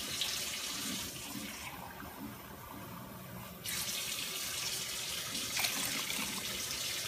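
Water pours steadily into a cooking pot holding chicken pieces, a continuous splashing stream with a brief change in tone partway through, close and fairly loud with no talking.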